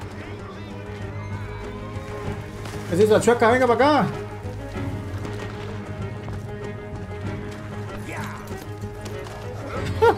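A horse in Red Dead Redemption 2 lets out a loud wavering neigh partway through, with hoofbeats and game ambience around it, while someone talks in Spanish over most of it.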